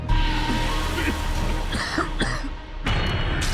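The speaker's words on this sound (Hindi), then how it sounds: "वो जोर जोर से खांसने लगा।" Loud, harsh coughing in close succession, with throat-clearing sounds between the fits.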